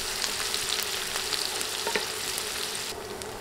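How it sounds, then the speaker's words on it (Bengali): Three medium sliced onions frying in oil while being stirred, a steady crackling sizzle with light scraping, close by, easing off slightly near the end, with no one talking. "এখন নেড়ে নেড়ে পেঁয়াজ কিছুক্ষণ ভেজে নেব।"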